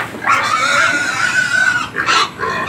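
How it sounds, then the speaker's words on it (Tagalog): A one-year-old mother sow nursing four-day-old piglets gives a loud, close, drawn-out grunting squeal, followed by a shorter second grunt. "Yan po ang ating inahin."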